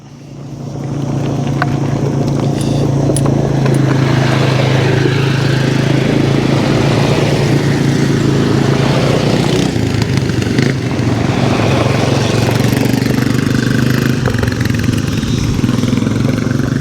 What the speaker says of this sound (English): we've got some quads coming past now